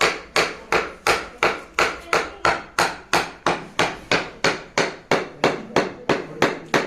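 A wooden piece is hammered into place during a household vastu installation ritual, with a steady run of about twenty sharp, close, evenly spaced blows, roughly three per second, and no talking.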